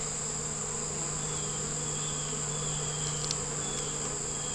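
Bees crawl and buzz inside an opened hive that holds a yellow queen and many beetles, a steady low hum with a faint high whine running evenly and close throughout.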